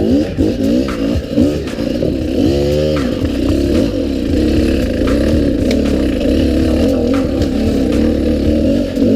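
An enduro motorcycle rides wet, muddy tracks, its engine droning loud and close throughout, with revs rising and falling and a sharp rev sweep early on, plus some clatter from the bike over rough terrain.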